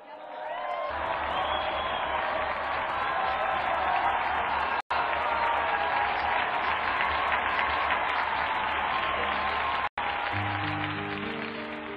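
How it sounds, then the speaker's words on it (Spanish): Devotional applause for San Ildefonso from a congregation during a Catholic radio broadcast: a dense, steady wash of clapping holds evenly for about twelve seconds over a low hum, with two brief dropouts. "Brindemos nuestro devoto aplauso a San Ildefonso"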